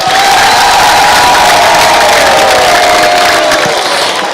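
A large crowd cheers and applauds loudly and continuously, with a whistle-like tone running through the dense roar.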